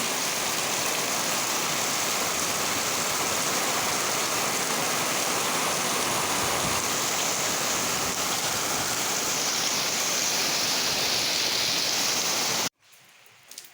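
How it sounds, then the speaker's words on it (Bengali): Heavy rain roars steadily as a dense, loud hiss for several seconds, then cuts off abruptly near the end. "কি জোরে জোরে বৃষ্টি হচ্ছে"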